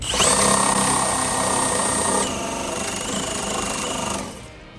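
A battery power tool grinds out a rocker arm bolt on a 1981 Chevrolet C10 engine, a loud continuous high whine with a steady buzzing rattle that drops in pitch halfway through and cuts off near the end.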